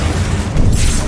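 A fire spell cast in the video game Hogwarts Legacy gives a loud, dense rumbling whoosh with a low booming body and a brief hissing flare at the end, all in about a second, with no voices.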